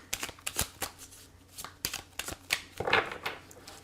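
A deck of tarot cards is shuffled close by in repeated riffling bursts, each a crisp papery flutter followed by soft taps as the cards settle, with no talking over it.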